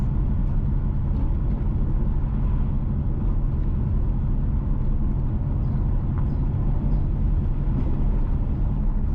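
Inside a car heading north from Sweetwater toward Mocho, Jamaica, a steady, loud low road and engine rumble drones on throughout with no voices.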